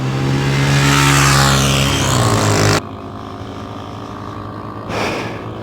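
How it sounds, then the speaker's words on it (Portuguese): A loud motor roars past with a rising, then falling pitch, cuts off abruptly, and another engine surges briefly a few seconds later. "Vocês perceberam como as motos são barulhentas, né?"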